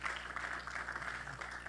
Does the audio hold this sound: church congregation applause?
yes